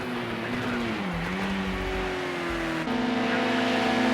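Racing car engine in Project Cars 2 at the Sugo circuit, a sustained high drone that dips and climbs as the car powers out of a final turn, then shifts to a higher steady pitch.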